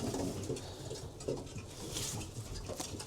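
Racing pigeons cooing in a loft, soft low coos and occasional rustle layered over a steady background hum, close and fairly continuous.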